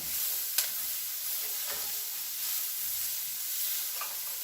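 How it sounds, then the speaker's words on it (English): A spoon or spatula scrapes browned chicken fond off the bottom of a pan, with a soft, steady sizzle and occasional faint scrapes and clicks. "Get all of that good brown chicken skin stuff off the bottom, known as the fond"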